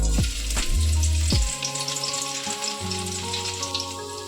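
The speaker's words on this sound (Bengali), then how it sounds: "কড়াইতে তেল দিয়ে দিয়েছি আমরা, তেলটা গরম হয়েই এসেছে। এবার আমরা দিয়ে দেবো রসুন কুচি" Hot oil sizzles loudly as chopped garlic hits the pan, a steady crackling fry with a few clanks of a utensil at the start.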